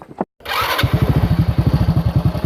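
A motorcycle engine at night starts with a brief burst and settles into a loud, close, pulsing idle with an even rapid beat.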